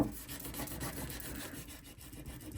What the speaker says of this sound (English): I'm going to give that a good rub with a squeegee